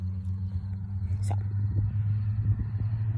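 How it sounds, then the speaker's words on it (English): A passing car gives a steady, close, low engine rumble that holds for about three seconds with slight swells and no talk. "there goes the car."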